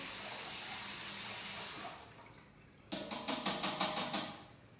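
Cold tap water runs steadily into a kitchen sink as cooked food is rinsed to stop it cooking, a continuous close hiss that breaks off, followed by a quick series of light clattering knocks.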